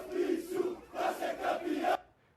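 A street crowd of football fans chants in celebration after a Copa do Brasil match, with rhythmic bursts of massed voices that swell and dip, then cut off abruptly near the end.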